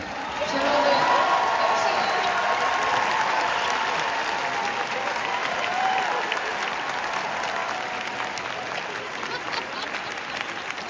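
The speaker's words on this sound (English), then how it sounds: "so we can give her a round of applause" Applause from a crowd greets a guest, sustained for the full stretch with a little cheering, slowly thinning toward the end while voices talk underneath.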